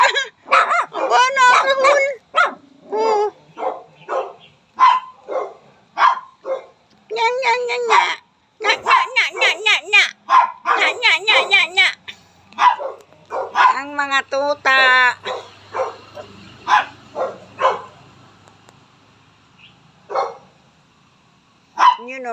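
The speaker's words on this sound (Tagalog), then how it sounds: "Kahul, kahul." Several puppies yip and bark close by in a rapid, high-pitched run of barks with short gaps and a few whimpers in between.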